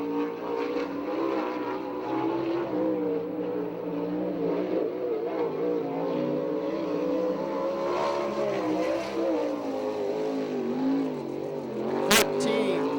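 Open non-wing 410 sprint car on a qualifying lap at Victorville, California, its engine roaring and pitch rising and falling through the turns, steady and loud throughout with faint crowd and announcer voices underneath.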